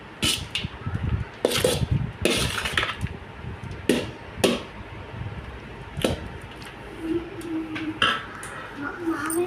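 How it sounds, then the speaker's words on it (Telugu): Grated mango rice (pulihora) is mixed in a metal pan, with repeated scraping and clanking strokes of a spoon against the pan at close range, some louder knocks among softer stirring. "మామిడి తురుము మొత్తం కలిసేలాగా ఒకసారి ఇలా జాగ్రత్తగా కలుపుకోవాలి."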